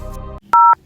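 Phone keypad tones sound as a call is placed: a brief tonal beep follows a short hum, then a silent gap and a loud, clean two-tone beep.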